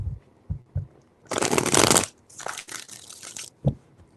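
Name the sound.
tarot cards being shuffled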